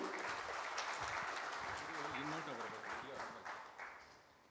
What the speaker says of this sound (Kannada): ಸ್ವಾಗತ ಭಾಷಣಕ್ಕೋಸ್ಕರ ಜೋರಾದ ಚಪ್ಪಾಳೆ ಬರಲಿ